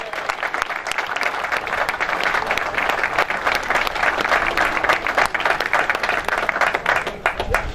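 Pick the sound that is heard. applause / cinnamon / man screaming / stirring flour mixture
applause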